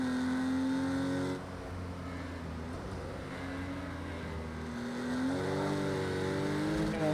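A Porsche race car drives on a track, its engine note rising and falling through gear changes at moderate distance, fairly faint and steady.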